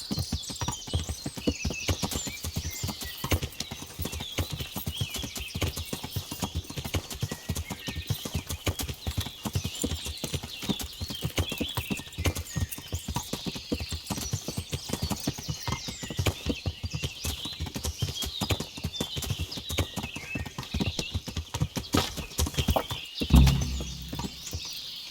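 Horse hooves clip-clop steadily on a dirt road in the medieval role-playing game Kingdom Come, with a brief snort or whinny near the end and no speech over it.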